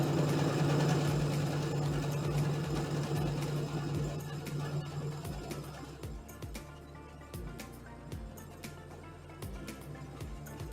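Sewing machine stitching a placemat, a soft steady motor hum with a regular ticking needle rhythm, faint and close, fading slightly toward the end.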